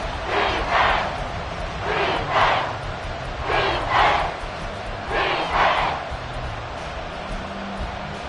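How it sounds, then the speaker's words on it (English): A football stadium crowd cheers in swelling bursts at a big third down, four loud roaring waves rising and falling over a constant low rumble of the packed stands. "the crowd getting into it as we come up on a big 3rd down"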